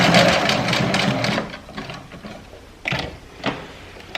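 A home sewing machine backstitching a skirt seam runs in a whirring burst, then stops and starts in short mechanical spurts with ticks and clunks, nearby and clear. The machine is slightly jamming.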